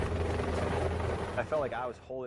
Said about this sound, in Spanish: El helicóptero entró por el cañón